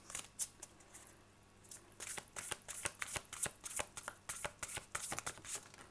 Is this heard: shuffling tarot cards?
yes